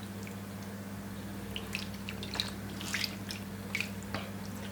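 Ketchup and honey sauce poured back over meat from a small container, with soft wet drips and squishy splashes over a steady low hum.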